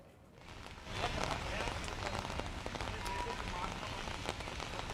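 Light drizzling rain over a city swells in after a quiet start into a steady, even patter and hiss that holds to the end.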